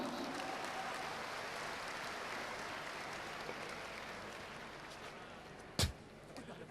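A crowd applauds at a distance, soft and even clapping spread across the whole stretch, with a single sharp knock near the end.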